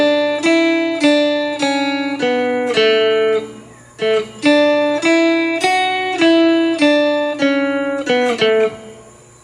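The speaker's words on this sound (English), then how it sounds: "We're going to play our first part like we've been playing it." A 4-string cigar box guitar plays a riff: bright plucked chords struck in a repeating rhythmic pattern, close and clear, with a brief pause midway and no voices.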